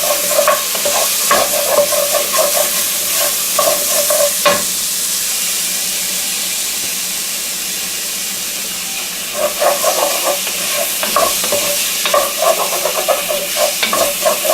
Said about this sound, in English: Let that sizzle away.